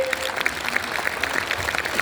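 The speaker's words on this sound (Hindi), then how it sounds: "जोरदार तालियां" Dense, steady audience applause fills a stamp album release ceremony about Arya Samaj history at Bharat Mandapam, a continuous patter of many hands throughout, with a brief tone near the start.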